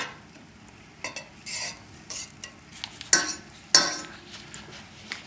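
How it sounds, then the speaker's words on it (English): Shrimp saute in a pan with butter and olive oil, a low sizzle broken by several sharp stirring scrapes and bursts of spatter, two especially loud near the middle, close by with no speech. "I'm sauteing the shrimps first before the vegetables"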